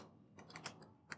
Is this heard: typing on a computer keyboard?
yes